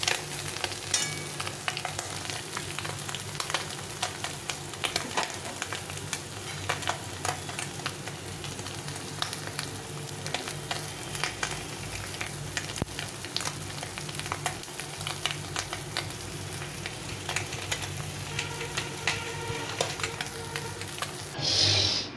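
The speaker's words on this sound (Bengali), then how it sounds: "তাই মাছগুলো এইভাবে এখানে ভেজে নিই।" Raikhor fish frying in hot oil in a kadai, a steady low sizzle with crackling spits and occasional stirring taps running continuously and fairly quiet, without talk.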